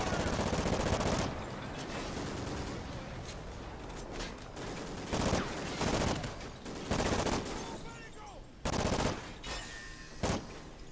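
Sustained automatic gunfire and scattered loud single shots in the Call of Duty: Ghosts campaign, a continuous battle din with sharper blasts punching through now and then.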